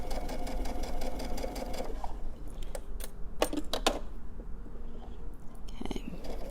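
A sewing machine hems the edge of a fabric face mask, its motor whirring in a steady mechanical rattle, with a few short pauses and clicks as the fabric is handled near the mic.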